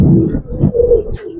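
Pigeons at a pigeon farm, among them Giribaz and coloured breeds, give low, throaty coos close by, with one rolling call following another over about a second and a half.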